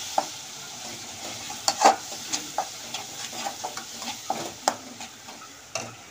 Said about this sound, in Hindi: देखिए मसाले भुन गए हैं